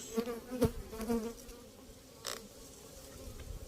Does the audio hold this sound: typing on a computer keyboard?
no